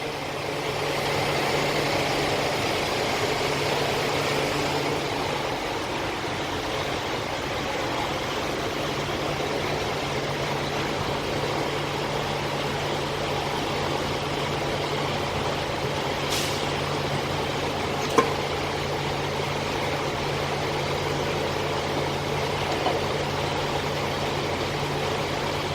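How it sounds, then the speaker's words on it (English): A truck satellite pump runs with a steady, unchanging mechanical drone alongside a working engine, close and constant throughout, with one sharp brief click partway through. "Go ahead, go start your satellite pump."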